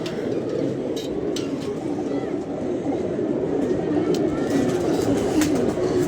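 Pigeons kept at home coo steadily, close and continuous, over a dense background murmur with occasional clicks.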